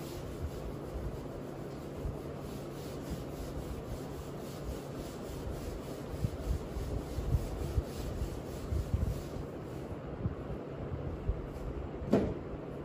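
A lecture board is rubbed clean with a duster in a classroom, a steady, faint scrubbing rasp continuing for over ten seconds with small rhythmic strokes, then a brief knock near the end.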